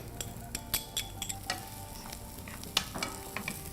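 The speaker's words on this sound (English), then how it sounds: "the oil is hot. We are going to cook our veggies" Finely chopped beans and carrots frying in hot oil, a steady close sizzle broken by repeated scraping stirs and small spatters, with no talking.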